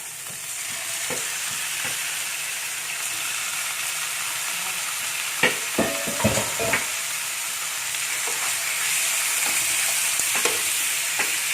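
Chicken pieces frying in galangal spice paste and being stirred in a pan, a steady sizzle with scraping and knocking from the utensil in the middle, close, no talking.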